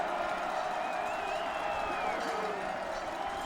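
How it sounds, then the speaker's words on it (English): A football crowd on its feet at the 2017 Monon Bell Game with Wabash playing: a steady, wide roar of voices and cheering fills the stands throughout, with a faint whistle-like tone drifting over it. "Crowd on its feet."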